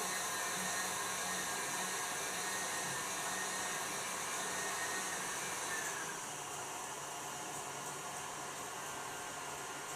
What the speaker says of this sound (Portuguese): vou colocar ali na batedeira